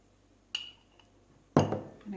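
A spoon clinks against a small bowl while mixing a sweet honey paste, two sharp taps followed by a louder scrape and clatter, close up, with no speech.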